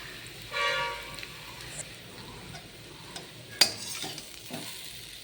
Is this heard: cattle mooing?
no